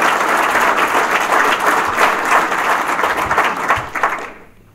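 An audience at a political summer dinner applauds after a speech, steady dense clapping that holds for several seconds, then tapers off and fades out at the end.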